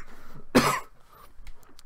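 A single sharp cough bursts out close and loud, then fades into a quiet room with soft background noise.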